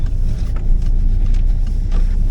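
A car is being driven, giving a steady, loud low rumble of engine and road noise from inside the cabin, with faint bumps along the way.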